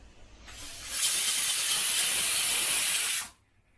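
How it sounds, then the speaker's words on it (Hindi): A pressure cooker on a home kitchen stove vents steam while cooking nihari, a loud, steady hiss that builds quickly, holds for about two seconds, then cuts off sharply. "तो ये प्रेशर कुकर है"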